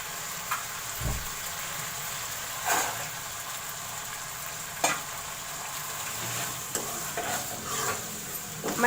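Green peas sizzle loudly in a pan for matar gosht, a constant close frying hiss broken by occasional stirring scrapes and light knocks.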